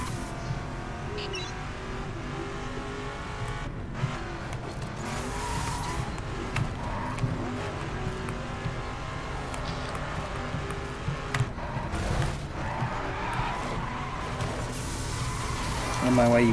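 A car drifts in the video game The Crew, its engine revving and tires squealing through long slides, while a person talks over the driving.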